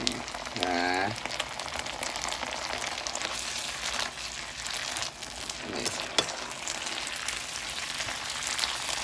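Water spinach stir-frying in a pan with oyster sauce and crispy pork: a continuous rain-like sizzle and crackle, steady and close, with occasional clatter of utensils.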